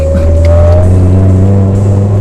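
A Mitsubishi Lancer Evolution VIII engine revs, droning loud and close, its low tone holding steady with a faint rising whine.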